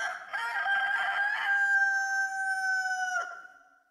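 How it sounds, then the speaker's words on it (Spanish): A rooster gives one long drawn-out crow, a clear rising call that holds steady before tailing off, heard alone against quiet background. "fue un canto de gallo"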